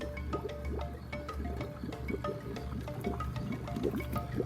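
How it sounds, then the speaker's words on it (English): Water trickles through a 1/4 inch tube into a reservoir for self-watering containers, a steady close drip and gurgle of liquid over a low background hum. "Supplying the reservoir with water so I don't have to water this."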